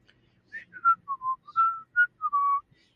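A person whistles a short, bright tune of several clear notes, close and alone against silence.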